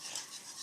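A spoon or spatula scrapes and stirs a thickening starch gel for peanut butter daifuku mochi in a hot saucepan, a brief close rasping swirl with soft rhythmic rubbing.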